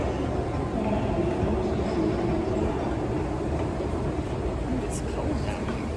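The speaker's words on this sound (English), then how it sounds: "we're about to hop on the Northeast Regional number 175 going to Washington, D.C." Amtrak Northeast Regional train number 175 bound for Washington, D.C., heard as a steady broadband rumble of rolling rail cars with faint clatter throughout, loud and continuous, with some talk in the background.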